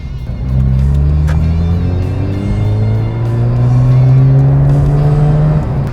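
Car with a freshly rebuilt rotary engine driving under load, engine note climbing steadily through the gears in smooth rising sweeps, loud and close from inside the cabin.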